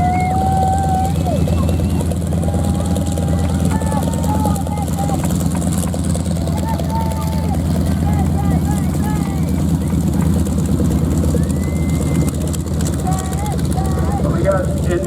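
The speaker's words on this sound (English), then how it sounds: "That is the reason the four aircraft taxiing out at this" Propeller aircraft taxi out at the Roswell air races, their engines droning in a steady, loud rumble beneath continuous commentary.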